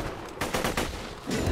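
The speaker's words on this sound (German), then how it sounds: "Oh, die ist aber wesentlich stärker hier, die Kanone." Cannon fire in Borderlands 2: a short run of loud, sharp bursts stacked close together, then a heavier low blast at the end, with no voices.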